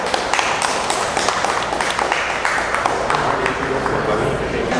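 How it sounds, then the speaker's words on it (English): Small group clapping in a car showroom, with scattered sharp claps over busy background chatter and voices, fairly close and loud throughout. "a little round of applause"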